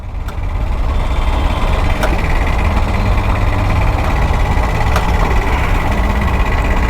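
A faulty scooty engine idles at a red light, a loud, close, steady low rumble with a continuous vibrating hum and a few faint clicks, running alone without any talk.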